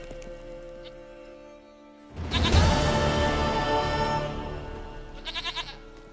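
A goat in The Witcher 3 lets out a loud, wavering bleat that swells and fades over a couple of seconds, then gives a short, quieter stuttering bleat, heard close against soft in-game ambience.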